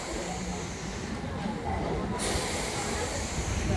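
A MEMU express train between Rajahmundry and Visakhapatnam rumbles and hisses in a steady, loud broadband roar heard from inside a carriage, with a brief shift in tone midway and faint crowd murmur underneath.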